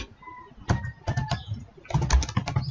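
Someone types on a computer keyboard while entering HTML code, short bursts of close, crisp key clicks separated by brief pauses, with no voice over them.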